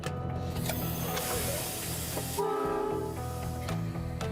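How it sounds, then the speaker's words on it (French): A heavy 600-tonne freight train in rural Australia starts to move off, giving a loud, continuous rumble and clatter with a brief high squealing tone partway through. No voices are heard. "Le train de 600 tonnes peut enfin partir."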